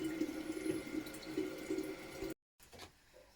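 Raw tap water runs steadily into a three-litre jar, a close, continuous rushing that cuts off abruptly, then resumes more quietly after a brief silence.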